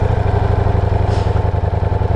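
A 2023 Ducati Diavel V4 engine runs at a fast, even idle, loud and close, with a steady pulsing throb and no talk.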